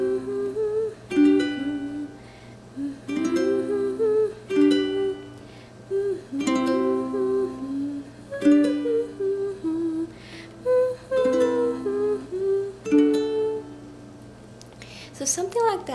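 Ukulele playing a song, with a single relaxed down strum on each chord. The chords ring steadily for about sixteen seconds and change at regular intervals, with no talking over them.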